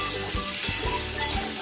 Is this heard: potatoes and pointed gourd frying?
yes